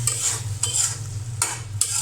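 Potatoes and ash gourd bori sauté in spices in a pan with a close sizzle, cut by about four sharp scraping stirs of a spatula against the pan, and no voices.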